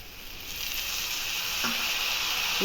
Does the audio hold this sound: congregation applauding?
no